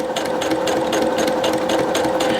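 A Brother FS155 sewing machine runs a straight stitch with a fast, even mechanical clatter and a steady motor hum, close and continuous without any voices.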